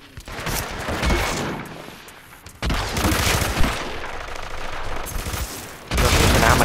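Rapid gunfire in Hitman Absolution, loud bursts of repeated shots with a short lull mid-way before firing resumes, no talking.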